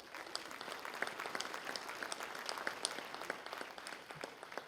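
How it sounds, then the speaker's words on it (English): An audience at a sports hall of fame ceremony gives a steady round of applause, continuous overlapping claps at moderate distance lasting several seconds, with no speech over it. "let's give our sponsors a round of applause"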